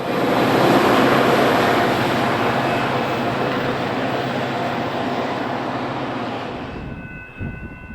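A non-revenue equipment reposition train passes on a BNSF commuter line, a loud, steady roar of wheels and rail noise that fades slightly near the end, leaving a faint tonal hum.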